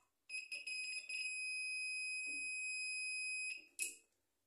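A short-circuit detector testing the terminals of a microwave magnetron gives a steady, shrill electronic beep that holds for several seconds, then cuts off after a brief clatter.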